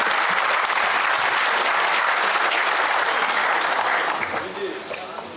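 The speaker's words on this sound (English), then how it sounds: "let's have a round of applause for their welcome" Sustained audience applause at a summit on sanitation, welcoming children onto a stage; dense, steady clapping fills most of the stretch before tapering off near the end.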